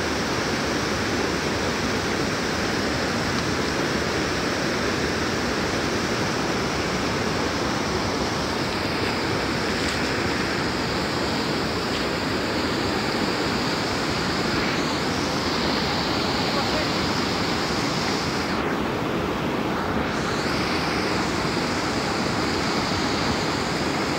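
The Likhu Koshi, a Himalayan mountain river, rushes by close at hand in a loud, unbroken roar of turbulent water that stays even throughout, with no clear voices over it.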